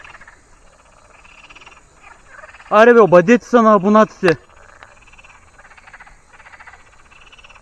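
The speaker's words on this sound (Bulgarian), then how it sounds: "слушам жабите." Frogs croak by the water in a repeating, rhythmic chorus that runs through the whole stretch. Someone speaks loudly over them in the middle.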